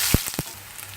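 Mustard seeds tempering in hot sesame oil for a brinjal fry give a brief, close sizzle with a few quick crackling pops.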